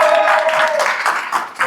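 A studio audience claps for a departing participant on a dating game show, a short burst of dense applause that stays fairly loud before thinning out at the end.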